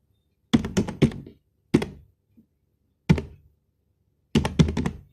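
Keys are struck on a computer keyboard in four short, separate bursts of crisp clicks and taps, close and clear, with silence between the bursts and no voices.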